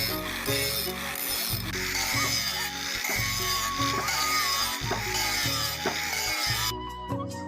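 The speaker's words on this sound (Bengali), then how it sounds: "এখন শুধু মেশিন দিয়ে ফিনিশিং এর পালা।" Machine finishing of a hand-forged iron blade for a dao or boti made from a truck leaf spring: steady mechanical grinding and whirring with rhythmic ratcheting pulses throughout, close and loud, stopping abruptly near the end.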